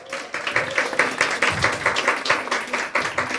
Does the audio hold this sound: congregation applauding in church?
yes